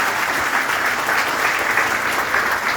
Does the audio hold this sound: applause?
yes